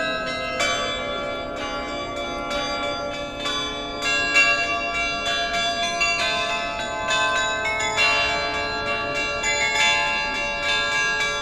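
Carillon bells at Saint-Quentin, played by a carillonneur, ring out in a continuous melodic run of struck bell tones with long overlapping resonance, loud and close, with no voices.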